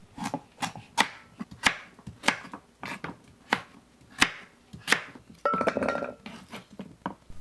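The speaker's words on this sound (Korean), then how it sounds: "단호박은 잘라서 냄비에 넣어요." A knife chops through peeled kabocha squash on a board, about a dozen distinct close knocks in an uneven rhythm, with a brief clatter of a pot near the end.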